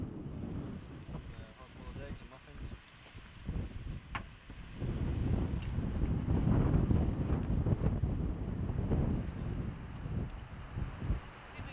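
Gusty wind in the Tanzanian plains buffets the microphone in rising and falling low rushes, loudest in the second half, with a narrator's voice talking over it.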